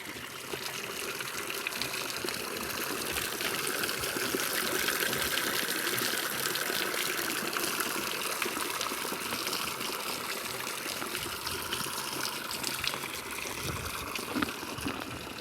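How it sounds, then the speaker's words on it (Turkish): Water flows steadily from a hand pump at a drinking-water well in southern Turkestan. It makes a continuous, fairly faint rushing gush that stays even for the whole stretch, with no speech. "Bu da el pompası."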